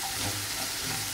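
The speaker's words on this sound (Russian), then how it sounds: "Отправляю перец болгарский. Все жарится на среднем огне." Bell pepper and vegetables fry in a pan over medium heat, giving a close, continuous sizzle with soft stirring scrapes.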